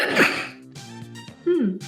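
One quick, sharp sneeze bursts out at the very start, then quieter voice-like sounds follow.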